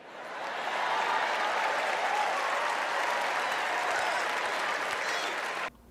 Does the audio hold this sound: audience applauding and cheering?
yes